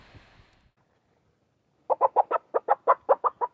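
Chickens kept at an off-grid beach home in Kenya cluck in a rapid series of about a dozen close, evenly spaced clucks after a brief quiet stretch.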